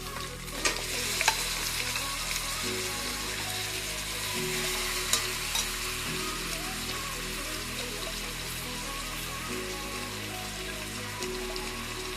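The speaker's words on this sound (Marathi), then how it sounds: "लसूण झालं आहे फ्राय आता मच्छी टाकून घेऊया" Fish dropped into hot oil with fried garlic sizzles loudly and steadily up close, a continuous crackling hiss with a few sharp pops and faint low stirring noises underneath.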